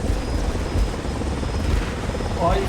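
Helicopter in the video game War Thunder, a steady loud rotor and engine drone running throughout with a faint high whine, while people talk over it.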